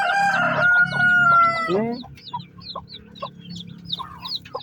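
Newly hatched chicks chirp in rapid, high peeps close by, with a rooster crowing loudly at the start over a low background murmur.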